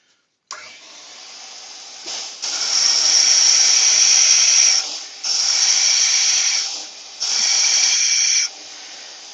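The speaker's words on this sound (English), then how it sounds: "I'm just going to sand the bottom flat." A turned yew piece having its bottom sanded flat on a powered sander, a loud close whirring hiss that runs in three long bursts with brief drops between, no talking.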